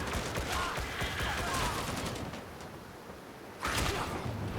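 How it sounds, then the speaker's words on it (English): Gunfire in the video game Darktide: dense bursts of rapid shots and cracks fill the first two seconds, ease off briefly, then return loudly near the end, with no speech over it. "Who's shooting?"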